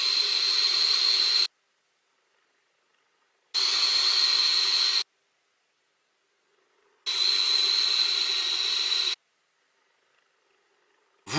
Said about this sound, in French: On a un nuage de vapeur qui est vraiment important et dense.